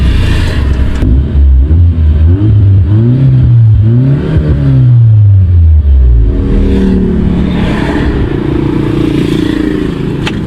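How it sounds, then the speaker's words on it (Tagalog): A Nissan Sentra B14 engine runs loudly and close by, its pitch rising and falling as it revs unevenly before sagging and dying out as the engine stalls. "Yun, namamatay yung makina."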